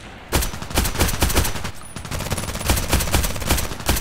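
H&K UMP45 submachine gun firing in Contract Wars, loud close bursts of rapid automatic shots in a fast steady rhythm, with a brief pause before more sustained fire.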